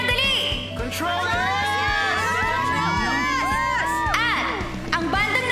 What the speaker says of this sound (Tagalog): Sigaw niyo na ang bandang bet ninyo.